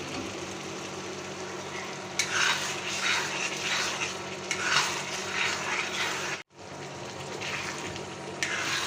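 Eggs cooking in a spiced masala and tomato mixture for a Bangladeshi egg curry, giving a steady loud sizzle with scraping stirring strokes throughout and a brief cut near the end, no talking.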